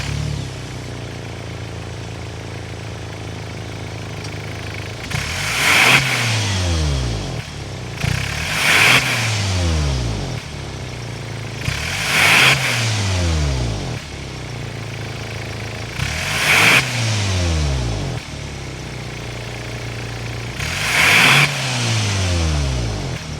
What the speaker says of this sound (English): Gotta go inside, start it up, give it some revs so you can hear what that thing sounds like.